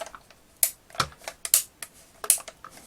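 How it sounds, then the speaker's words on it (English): A vintage G1 Transformers Metroplex toy's repaired waist rotated on its post, giving a series of sharp, close plastic latch clicks in an uneven rhythm, about eight distinct ticks over a few seconds with nothing else heard. "now when we rotate his waist, we should hear a little clicking, because there is a sort of latching mechanism on the top half of that post"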